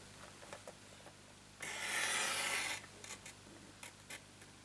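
A single pass of a paper trimmer blade slicing through a sheet of card, a brief rasping cut in a quiet room, surrounded by faint clicks and handling taps.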